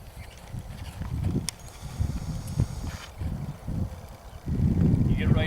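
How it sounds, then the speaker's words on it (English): A horse loping on a riding surface, giving a repeated rhythmic three-beat hoof pattern of low thuds, fairly close, with a steady rumbling background and no talk. "here's the way that you get this horse to lope"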